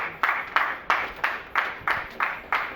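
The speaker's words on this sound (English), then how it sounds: "A round of applause, please" Sharp, evenly spaced claps ring out close by, about eight in a row at a steady rhythm, with no talking, at a foundation launch event.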